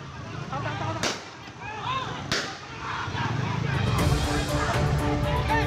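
Police firing warning shots during a dramatic arrest of gang members posing as a mass organisation in South Tangerang, Banten: two sharp, loud cracks about a second apart over a noisy outdoor crowd and traffic rumble.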